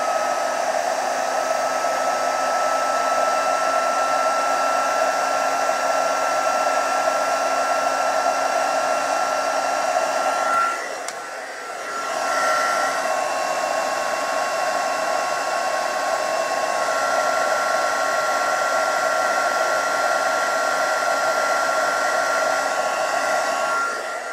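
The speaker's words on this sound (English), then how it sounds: "And again, I'm putting the heat tool on." Heat embossing tool blowing hot air onto a card, a steady, loud, close whoosh with a fan hum that holds for the whole stretch and dips briefly once midway, with no talking.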